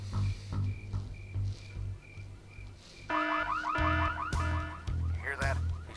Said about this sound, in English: To set the alarm off again.